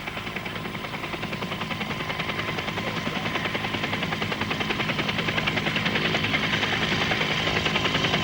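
A helicopter hovering over a bicycle race, the Clásica San Sebastián 1999, gives a steady, dense rotor and engine drone that swells slightly louder over several seconds, with no voices.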